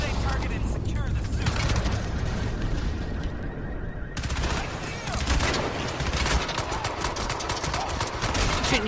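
Rapid gunfire and explosive bursts from the video game Crysis 2, set in a parking garage, fill the whole stretch loudly and continuously, with a brief lull partway through before the shooting resumes.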